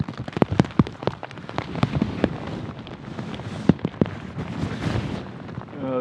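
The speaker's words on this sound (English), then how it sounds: "Every day it rains." Steady rain falls in the Colorado mountains during an elk hunt, a dense close patter with sharp, loud drops striking nearby surfaces throughout, with no voices.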